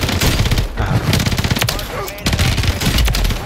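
Rapid automatic fire from a BP-50 rifle in Warzone, loud and close in continuous bursts with a brief gap midway.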